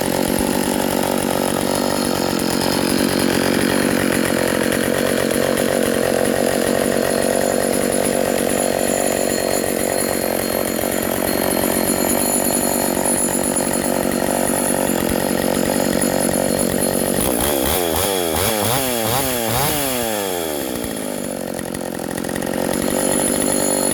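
A vintage IEL Pioneer chainsaw runs loud and close at a steady high-revving buzz for a long stretch, then its pitch wavers and sweeps as the throttle is eased back toward idle near the end.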